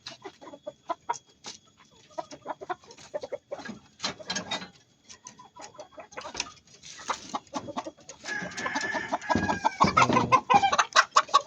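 Native chickens on a farm clucking close by in short, irregular bursts, with occasional mechanical rattling and a louder squawking flurry near the end.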